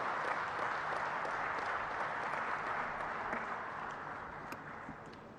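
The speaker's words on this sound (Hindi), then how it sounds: "तालियों से स्वागत माननीय प्रधानमंत्री जी का" Broad, steady audience applause welcoming the Prime Minister at an expressway inauguration ceremony, a dense wash of clapping that holds evenly and fades slightly toward the end.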